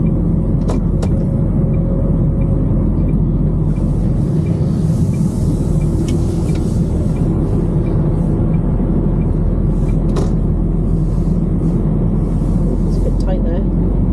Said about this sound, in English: There's a lot of lorries